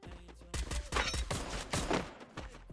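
Rapid gunfire in an online shooter match, a dense burst of sharp, closely spaced shots crackling over about two seconds, fairly loud and close.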